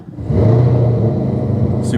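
A Chevrolet Camaro ZL1 with its exhaust in stealth mode idles as a low, subdued, steady engine rumble, with someone talking over it.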